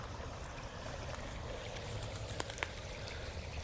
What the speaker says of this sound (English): Flowing water. The dam is still working.